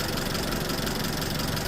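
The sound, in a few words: Chevrolet Captiva 2.4 naturally aspirated engine idling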